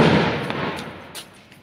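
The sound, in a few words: firecrackers bursting during Govardhan celebration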